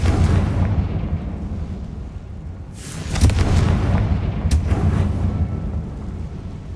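A Confringo blasting spell explodes in the Hogwarts Legacy video game, two sharp booming blasts a second or so apart that cut through a low rumbling game backdrop.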